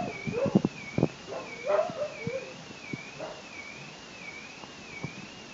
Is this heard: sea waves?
no